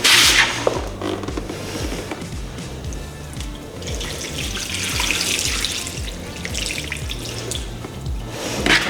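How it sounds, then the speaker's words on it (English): Water poured over a rubber floor mat splashes and streams across it in uneven gushes, a close, hissing wash that swells and fades. "dump water on the high side and it streams down"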